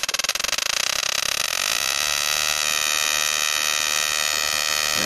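A Murakami Plasma Ignition 6 running at full speed gives a harsh, steady electric buzz of rapid plasma discharges, loud and close, starting slightly pulsed before settling into a continuous drone with no voices.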